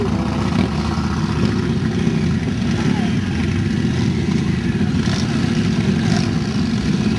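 Yamaha Virago motorcycles rolling past at a motoring pageant in Bath, a steady, loud low engine rumble filling the whole stretch, with a few faint voices carried over it.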